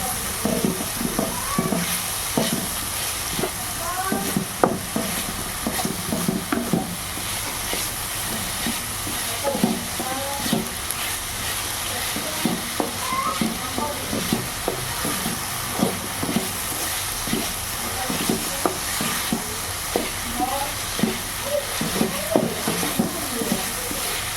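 Mixed vegetables sautéing in a pan for a stuffing, with a steady low sizzle and repeated scraping stirs throughout, close and moderately loud, with no voices.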